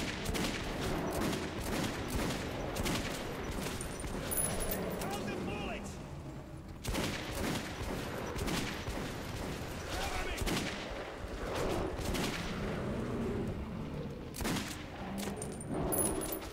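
Bursts of gunfire from Metro 2033 Redux gameplay, dense and continuous fusillades with rapid repeated shots, loud and near, while someone talks over the action.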